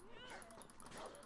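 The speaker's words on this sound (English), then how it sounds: "Oh, that's a dog." A dog in the Assassin's Creed Odyssey video game gives a short, faint yip-like bark amid busy game sound, with a voice talking over it.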